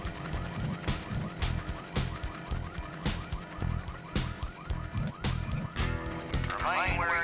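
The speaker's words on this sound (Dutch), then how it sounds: "who set off the alarm" An alarm rings in the Full Throttle video game, a loud, steady, pulsing electronic wail that persists throughout over game music.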